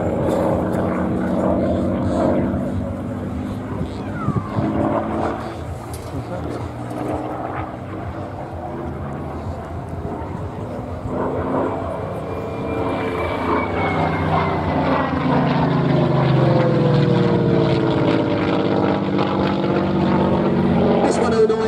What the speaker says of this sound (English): The 109, without a doubt the most famous German aircraft ever built.